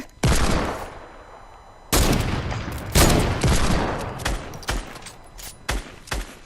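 Gunfire in Fortnite, a rapid succession of loud, sharp gunshot bursts and volleys, some overlapping, close and dominant throughout with no talking.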